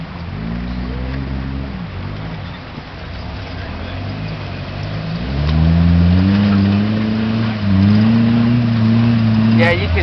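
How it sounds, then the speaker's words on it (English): A four-cylinder Jeep engine idles with a low rumble, then revs up to a modest, steady drone and holds there, heard from outdoors at moderate distance with people talking over it. "It's a four banger because mine would have revved a lot higher than that."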